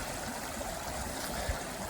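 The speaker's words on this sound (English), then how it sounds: "Rather a nice little babbling brook runs down one side." A babbling brook runs beside a campsite pitch on farmland, its steady rushing, trickling water filling the whole stretch at an even level with no voices.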